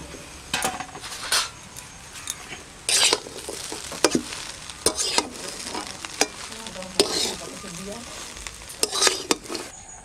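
Chicken chow mein stir-fried in a pan with egg and pre-fried chicken, loud sizzling broken by frequent sharp spatula scrapes and clanks against the pan, close and busy, with no talking.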